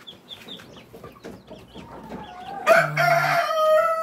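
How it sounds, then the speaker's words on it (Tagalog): Farm chickens around Rhode Island Red chicks, soft clucks and peeps at first, then a loud rooster crow that rises and holds near the end. "Meron tayong maliliit na sisiw dito. Yan. Sisiw ng Rhode Island."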